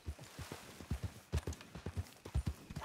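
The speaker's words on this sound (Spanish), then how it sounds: "¿Por qué el caballo te está siguiendo?" Horse hooves clip-clop in a ranch roleplay video game, a quick, uneven run of soft close thuds as the animal walks along, fairly quiet and with no talk over it.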